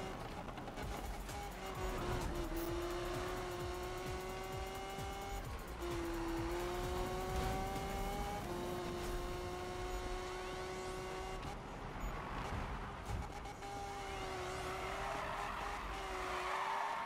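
Lamborghini racing in Need for Speed: a steady, high-revving engine drone rises in pitch through repeated gear changes, with tire squeals and sliding, while people talk faintly in the background.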